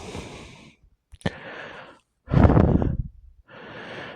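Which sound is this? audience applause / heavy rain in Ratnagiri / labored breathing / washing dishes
labored breathing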